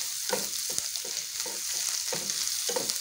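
Garlic sizzles and spits in hot oil in a pan while cooking for a chicken feet dish, a close, continuous frying hiss broken by regular stirring scrapes and clacks.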